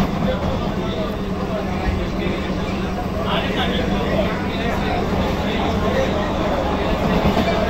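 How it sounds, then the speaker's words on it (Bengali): An AC local train on the Sealdah–Bongaon line runs through Ashoknagar station without stopping, a steady loud rumble with rail noise that holds throughout, and people talk faintly underneath. "অশোকনগর থ্রু পাস করছে ট্রেন।"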